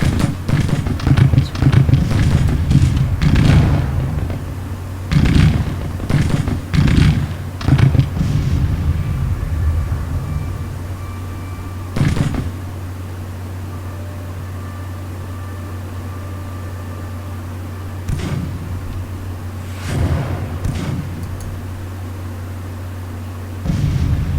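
Gunfire and artillery rumble through a Civil War battle near Nashville in Grand Tactician: Civil War. Repeated booming volleys and sharp reports arrive in irregular clusters over a steady low drone, dense at first and then more spaced out.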